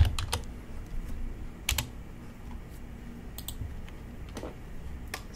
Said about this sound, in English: type in a keyword